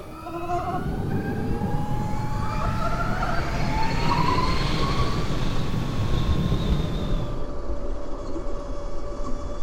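A 2020 Harley-Davidson LiveWire electric motorcycle leans around a bend, its steady rising electric whine climbing in pitch over loud continuous wind and road rush, then dropping off near the end.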